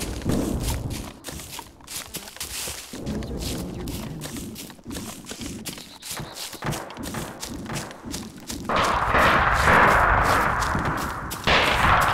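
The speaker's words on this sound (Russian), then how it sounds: "Сейчас будут обстреливать из пушки." An artillery-style cannon fires during an airsoft game at Tushino, with deep booming thumps and blasts scattered through the scene. A louder burst of noise comes near the end, amid outdoor movement and bustle.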